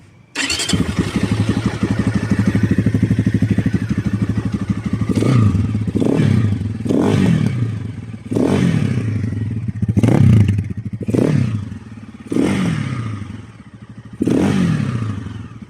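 A 2026 GPX 300R FSE motorcycle engine cranks and catches, settling into a steady idle broken by a series of sharp, evenly spaced throttle blips, loud and close with no talking.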